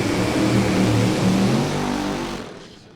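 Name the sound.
NHRA drag racing car rolling into the staging beams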